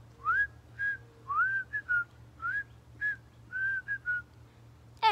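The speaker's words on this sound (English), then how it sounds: "He whistled all the way there." A person whistles a short, bright tune in separate rising phrases over a low steady hum, with brief pauses between phrases.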